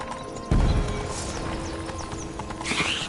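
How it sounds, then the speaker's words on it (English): A horse gallops in The Witcher 3 video game; heavy rhythmic hoofbeats begin abruptly and keep pounding steadily close by, with faint whooshing game sounds layered over the top. "Run, Roach. Faster!"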